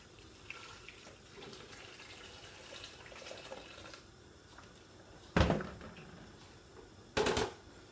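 Boiling water pours from a kettle into a homebrew beer kit vessel in a soft steady stream, with light clinks along the way, then two short loud splashing gushes near the end.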